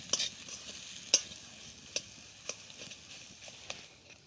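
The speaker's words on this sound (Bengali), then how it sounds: "এবার আমি আলুটা একটু মশলার সাথে ভালো করে কষিয়ে নেব।" Potato pieces being fried with spices in a pan, a quiet sizzle under sharp spoon taps and scrapes that come every half second or so, close and without talking.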